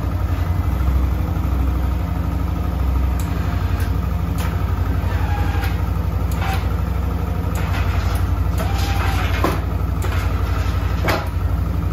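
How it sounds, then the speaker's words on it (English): An ATV four-wheeler engine fitted with a winch and plow idles steadily and loudly up close while warming up, a constant low rumble with faint clicks and rattles over it, no speech. "I'm running the four-wheeler for a few minutes, trying to warm up."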